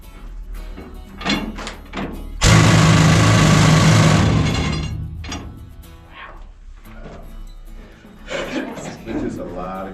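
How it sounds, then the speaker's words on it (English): A loud burst of harsh, pounding noise from a drifter rock drill at a Colorado gold mine starts abruptly, roars for about two seconds, then fades, with people talking before and after. "I'll demonstrate the drifter drill here for you real quick."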